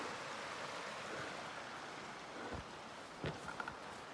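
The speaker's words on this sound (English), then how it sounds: "Sounds like we got a creek running just below us." A soft, steady rush of a creek running just below, continuous and fairly faint, with a few brief knocks and rustles, in the backcountry near Banff.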